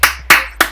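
Three sharp, evenly spaced claps from a crowd in the NBA 2K16 basketball video game, loud and close with brief decays between them and no talking.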